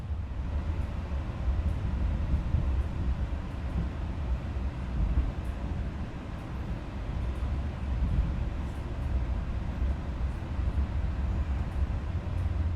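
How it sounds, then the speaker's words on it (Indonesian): The Gajayana New Generation executive train runs along the tracks, heard from inside the carriage as a steady low rumble and hum that continues evenly throughout. "Kita nikmati perjalanan dengan kereta api Gajayana New Generation."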